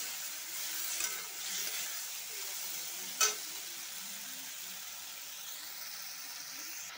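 Water poured into cumin and coriander powder frying in a pan, giving a steady sizzle with a sharp, brief hissing burst partway through and faint stirring scrapes, close and moderately quiet.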